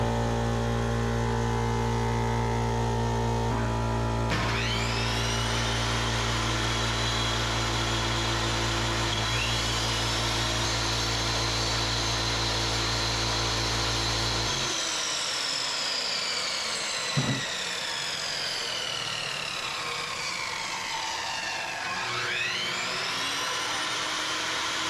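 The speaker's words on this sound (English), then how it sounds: "Alright guys, so it ran the air compressor." An air compressor running off a Bluetti AC300 power station in a pole barn, with a loud, steady motor drone that shifts pitch several times, cuts to a lighter whine partway through, and carries rising and falling tonal sweeps.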